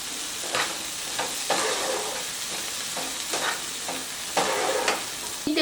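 Spring onion and chopped coriander are stir-fried in a pan, giving a continuous close hiss of frying broken by repeated scraping bursts from the spatula at uneven intervals, with no speech.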